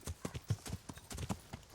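Horse hooves clip-clop in steady, uneven beats while riding in the Kingdom Come Deliverance game, close and moderately loud with no talk over them.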